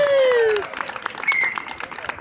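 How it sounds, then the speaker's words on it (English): A street show crowd in Inverness breaks into a short round of applause, scattered claps rising and thinning out, with voices and a few whistle-like tones over it. "you'll get a spontaneous round of applause."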